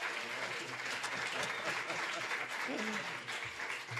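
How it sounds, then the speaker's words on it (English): Audience applause for the mayor at a bill signing for a senior citizen property tax relief act, a steady, dense wash of clapping filling the room with a voice briefly heard over it. "let's give the mayor a big round of applause"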